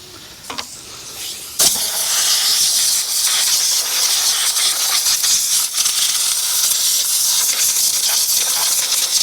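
Compressed air blasting debris off the top of an engine before the distributor is pulled, a loud continuous hiss that starts abruptly after a couple of brief puffs and keeps going close to the nozzle.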